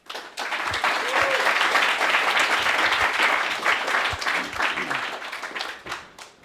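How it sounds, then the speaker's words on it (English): A room full of people at a careers fair clapping together in one sustained round of applause that swells quickly, holds steady and then tapers off toward the end. "huge round of applause for JISC, Open Athens"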